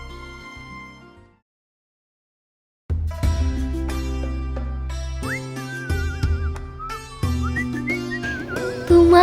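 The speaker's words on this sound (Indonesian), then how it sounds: "Tumang bersiul dan memejamkan matanya" A wavering melodic whistle rises over music with bright tinkling notes, following a brief silence.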